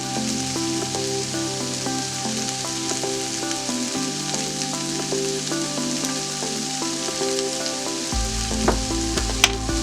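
Honey glazed chicken with a pinch of salt sizzles in a pan. The frying crackle is dense and continuous, with light scraping from stirring and a few sharp clicks near the end. No one speaks.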